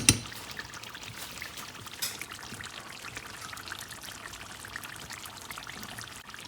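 Ghee poured into a pan for prawn malai curry gives a soft, faint trickling stream, with a small clink at the start and another around two seconds, then a steady quiet dribble alone.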